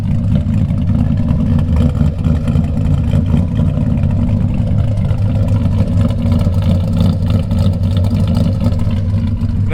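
A 6.0L LS V8 swapped into a Chevy C1500 pickup idles with a steady, deep, loping rumble, close and loud and unchanged throughout.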